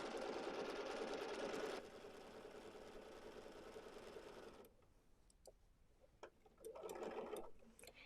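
A sewing machine making a basting stitch while quilting a retro car pillow. The quiet, steady motor whir runs for several seconds and then stops, leaving soft handling noises and a short burst of fabric movement.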